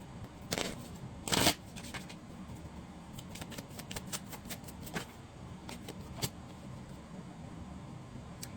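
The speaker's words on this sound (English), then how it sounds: "I'm pulling out a card from all the decks I've been guided to use" Oracle cards being pulled from a deck, giving soft papery shuffles and slides, with two louder bursts early on and a scatter of brief card flicks afterward, close and quiet, no talking.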